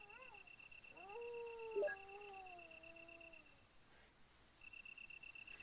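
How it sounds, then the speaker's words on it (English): Dogs in a video game whine and whimper in a few rising, drawn-out cries over a steady cricket-like insect hum, followed by a quieter stretch of background ambience. "Dogs, dogs, dogs."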